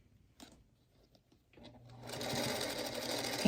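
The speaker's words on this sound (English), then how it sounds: "And you can sew over it if you'd like" After a few soft handling taps, a sewing machine starts up and runs steadily, stitching quilt block seams over pins for a 10-inch checkerboard star block, close and continuous with no talk.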